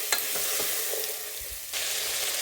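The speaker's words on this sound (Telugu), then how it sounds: "ఇప్పుడు దీంట్లో గ్రీన్ బఠానీ, మనం ములక్కాడ బాయిల్ చేసి పెట్టుకున్నాం కదా, అది వేసుకొని కొంచెం పసుపు వేసుకుందాం. ఒక 5 to 10 మినిట్స్ ఇలా వేయించుకోవాలి." Green peas and boiled drumsticks with a little turmeric fry in a pan, a soft steady sizzle with a few quick stirring scrapes and a brief lull before the hiss swells again.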